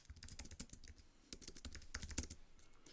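Close, quiet computer keyboard typing as an address is entered: a quick run of light clicking keystrokes in uneven bursts, with no voices.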